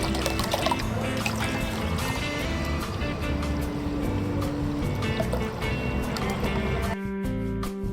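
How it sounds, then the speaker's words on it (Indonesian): Water pours steadily into a container of hydroponic AB mix nutrient stock, a dense close gushing stream that carries on for about seven seconds before cutting off abruptly. "Terus kita kasih air."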